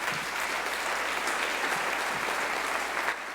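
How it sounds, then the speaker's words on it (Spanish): Congregation applauding the Lord during a Christian church service, a continuous wash of many hands clapping, even and sustained before stopping abruptly near the end. "Dale un aplauso al Señor"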